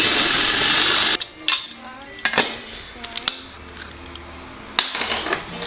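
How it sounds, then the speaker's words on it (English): A 3/16-inch drill bit enlarges a hole in a Sonex aircraft flap drive rib for a nut plate: a short, harsh burst of drilling up close, followed by scattered metallic clinks and light taps. "next I'm going to switch out to a 3/16 drill bit here to drill this hole slightly larger for the nut plate"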